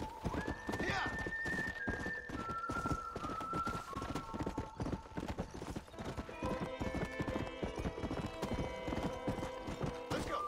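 A horse gallops in the video game Red Dead Redemption, its rapid, loud hoofbeats close and steady, with a whinny and tonal music or game sounds layered over the clip-clop.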